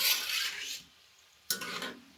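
Lilva kachori fry gently in medium-hot oil, a soft sizzling hiss broken by a pause and then a scraping stir of the utensil through the pan.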